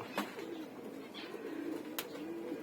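Pigeons kept in a loft give soft, low cooing calls that repeat in short rolling phrases, fairly faint against a light background hiss, with a couple of sharp clicks between them.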